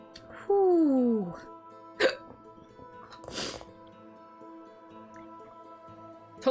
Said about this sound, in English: Told you there were hiccups.